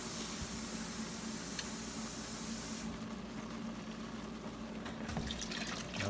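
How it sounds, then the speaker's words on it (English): Steady rushing water pouring into a pot of rice, continuous and fairly close, with a slight change in tone partway through. "And now I'm going to add some water."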